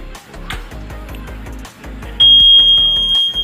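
Fire detection alarm system undergoing a zone test sounds off loudly: a rapid repeating electronic tone pattern, then a continuous high-pitched alarm tone kicks in partway and holds steady to the end.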